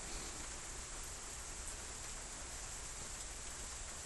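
Steady rain falls outdoors, a constant soft hiss with no breaks and no voices, moderately quiet and evenly spread.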